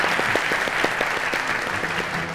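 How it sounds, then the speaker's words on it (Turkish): An audience applauds on a Turkish open-mic talk show, dense steady clapping from many hands filling the room at a loud, even level. "O yüzden ben alkışlayacaklarını da düşünüyorum tabii ki."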